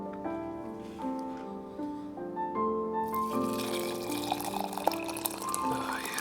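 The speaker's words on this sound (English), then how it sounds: "I'm just going to pour the water now so you can hear the relaxation entering" Water is poured into a cup of oolong tea, a soft, quiet pour that starts partway through under steady instrumental music.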